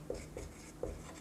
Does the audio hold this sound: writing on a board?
yes